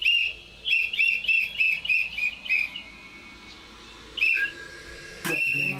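A whistle blown in a series of short, shrill, bright toots in quick bursts, then a pause and a few more blasts, loud and close.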